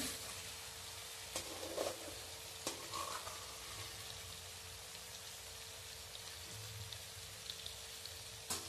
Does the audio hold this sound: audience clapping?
no